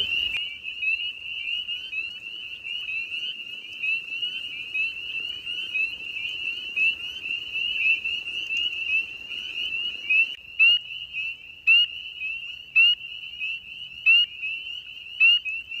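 Spring peeper frogs calling outdoors at night, a dense, steady chorus of high shrill peeps repeating continuously and loudly, with individual calls standing out more sharply toward the end and no voices.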